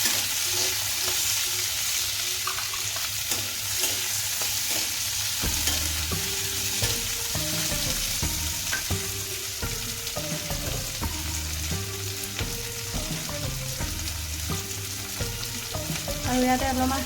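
Chopped onions and tomatoes fry in a pan, giving a continuous sizzle broken by repeated scraping and stirring clatter, close and steady throughout, with no talk.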